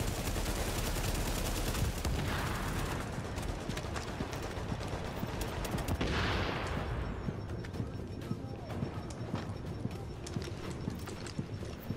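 Automated turrets firing in The Division during a co-op mission at a refugee camp, a rapid stream of gunfire cracks and bursts under constant rattling game noise, with a sharp whooshing swell partway through.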